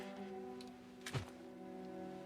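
A wooden blunt weapon swings once, a quick soft whoosh with a dull thunk midway through a quiet stretch over a steady low hum.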